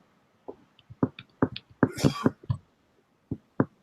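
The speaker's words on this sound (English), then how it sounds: "Who's coughing? Who's coughing?" A series of short, dry coughs and throat-clearing bursts, close by, scattered irregularly with brief pauses between them.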